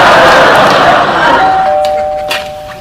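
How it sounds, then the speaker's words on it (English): A doorbell in a sitcom house gives one loud, close chime that rings on and slowly fades, with faint background murmur behind it. "just checking the doorbell again"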